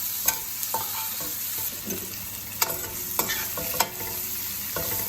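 Onions with turmeric being stirred and fried in a pan, a steady sizzle punctuated by several sharp spoon scrapes and knocks against the pan.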